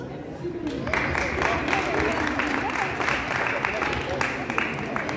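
Applause from a crowd at a Women's Day event, steady dense clapping that swells after the first second and continues throughout at moderate loudness.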